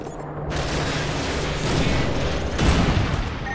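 Heavy battlefield gunfire in Call of Duty Modern Warfare 2, a loud, dense roar of sustained shooting and booming impacts with a low rumble swelling near the end, continuous rather than distinct single shots.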